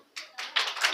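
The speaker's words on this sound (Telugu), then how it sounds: "క్లాప్స్ కొట్టండి" Sunday school children at a Christmas gathering break into short, sharp handclaps, three quick bursts that grow louder and denser toward the end.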